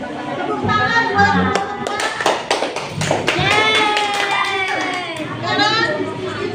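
Children in a classroom clap their hands in scattered bursts, the claps mixed with excited young voices and chatter, close by and fairly loud.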